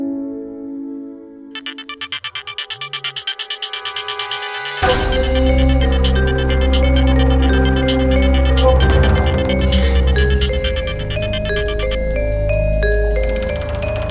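A phone ringtone plays as a repeating electronic melody over a busy musical background, with short pulsing bursts early on before a fuller tone swells in and carries through to the end.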